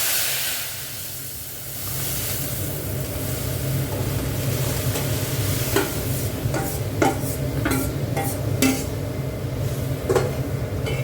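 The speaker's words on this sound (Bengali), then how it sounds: "এবার ডালটা ঢেলে দিচ্ছি।" Dal poured into a hot pan gives a steady low sizzle and hiss, with a few sharp clinks of a utensil against the pot in the second half; no talking.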